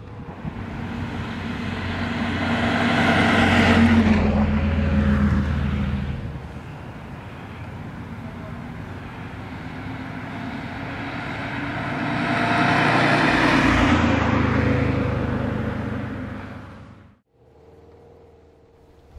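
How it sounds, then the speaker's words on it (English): Subaru Impreza WRX STI turbocharged boxer engine rumbling through quad stainless steel tailpipes, a steady droning thrum that swells twice as the car passes closer, then cuts off near the end. "the car's unique boxer rumble, the thrum of its turbocharged engine through its quad stainless steel outlet tailpipes"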